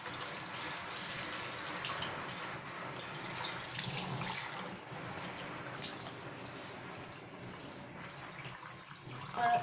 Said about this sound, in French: là, je mouille bien les cheveux